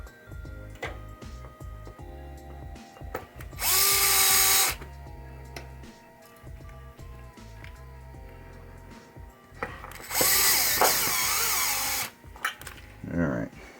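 A power drill drives screws into a 1972 Chicago Coin pinball machine's pop bumper, with two loud whirring bursts of a few seconds each, surrounded by clicks, handling noise and someone talking.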